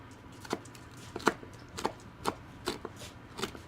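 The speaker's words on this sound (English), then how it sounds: "I'm just going to chop this bacon up quickly." Knife chopping three slices of cooked bacon on a cutting board, about seven evenly spaced sharp taps, close and fairly quiet with no talk.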